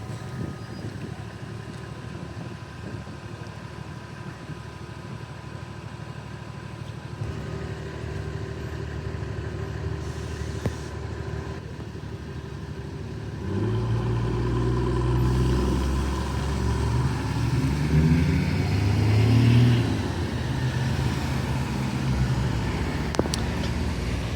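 A city bus on route 406 runs along a road, its engine rumbling steadily and growing louder and heavier about halfway through, with low mechanical drone throughout.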